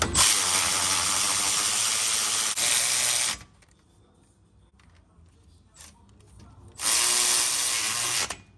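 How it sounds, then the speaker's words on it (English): A power tool drives the rear wheel hub bolts tight on a 2015-2023 Ford Mustang, giving two loud, sustained whirring bursts with a quiet stretch of faint clicks between them. "Tighten these things all the way down."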